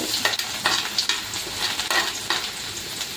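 Dry garlic frying in hot oil with asafoetida and turmeric for a garlicky tempered rotla breakfast dish, a steady close sizzle broken by several sharp stirring scrapes, with no voices.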